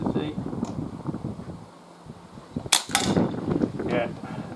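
A Webley MK6 air pistol fires a single sharp crack outdoors in gusty wind, with brief speech before and after the shot and wind buffeting the microphone.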